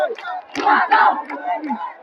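Spectators at a Pateshwari boat race chant slogans in a loud, rhythmic crowd roar, cheering on their boat from nearby.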